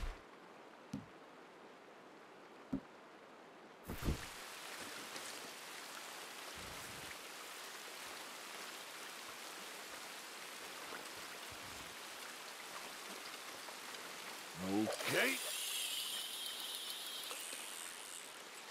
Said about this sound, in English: when it's raining than to do a little fishing?